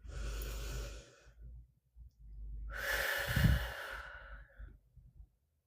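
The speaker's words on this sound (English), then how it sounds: "take a deep breath with me" A deep breath, slow and close: a long audible inhale, a pause, then a fuller drawn-out exhale, with no speech.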